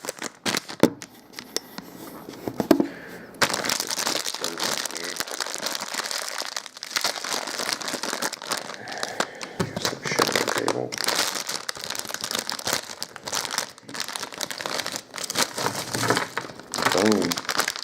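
Individually wrapped Riesen chewy chocolate caramel candies crinkle and rustle in their plastic wrappers for a long, continuous stretch, close and fairly loud, with a brief quieter moment near the start.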